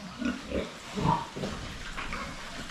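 Low grunts from pigs come in a loose series, moderately close and fairly quiet, with no talking.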